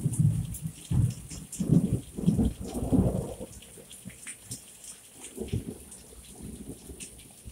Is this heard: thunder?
yes